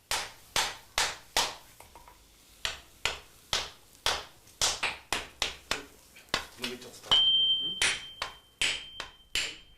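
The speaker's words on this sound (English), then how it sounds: "The commands of the swordsmith's hammer is all that is required." A swordsmith's hammer strikes tamahagane steel on the tekogane plate in a traditional Japanese smithy, about twenty sharp ringing blows in an irregular, steady rhythm, loud and close, with a brief high tone near the end and no speech.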